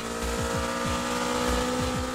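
A Honda Civic Type R EK9 engine, tuned with 15 more horsepower than the base model and an earlier shift point, accelerates on the Tsukuba circuit. It gives a loud, steady drone with repeated quick rising pitch sweeps as it revs.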